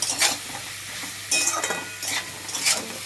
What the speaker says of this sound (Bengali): এটা ভালো করে ভেজে